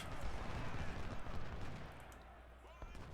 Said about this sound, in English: We're going to go ahead and aim canister fire right at them.